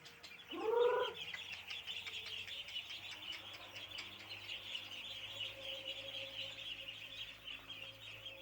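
Ducks on an Indonesian duck farm, Peking and hybrid ducklings five days old, with one louder cluster of calls near the start. A steady chorus of chirping and peeping from the flock continues behind it for the whole stretch.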